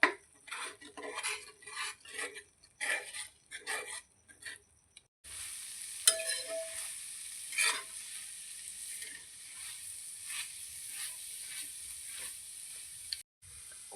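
Egg tava fry mixture stirred in a hot pan, a spoon scraping and clinking in bursts, then a steady sizzle of frying that runs on with a few sharper scrapes, close and moderately loud with no talk.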